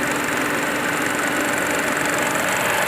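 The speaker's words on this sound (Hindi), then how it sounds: "तो ये अपना इंजन स्टार्ट है" A car engine idles with the air conditioning running after a misfire fix, a steady, smooth hum and blower whoosh heard close up and continuous, with no talking over it.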